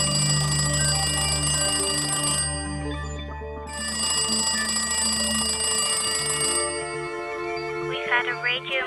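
An old telephone rings in a lifeboat secretary's home, bright metallic bell bursts repeating in a steady pattern with a short pause between rings, over a sustained tonal musical backdrop.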